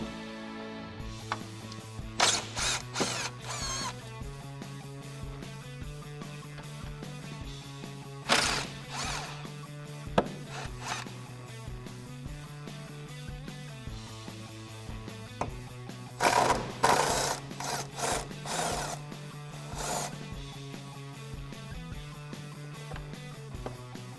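A power gun drives fender flare fasteners on a Jeep Wrangler JK, with a steady mechanical hum running throughout and several short, loud bursts of whirring and clattering as the fasteners are run in.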